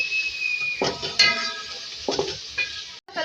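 Small chicken cubes fry in a hot pan with a steady sizzle, while a spoon scrapes and stirs against the metal, clinking in short bursts, with no talking.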